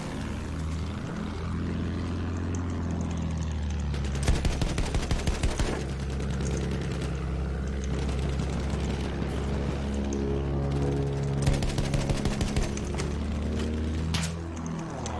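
Machine gun fire at an enemy fighter plane in the Battlefield 1 video game, rapid bursts of gunfire over the constant drone of propeller aircraft engines, loud and continuous.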